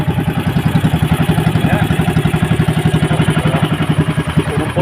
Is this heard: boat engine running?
yes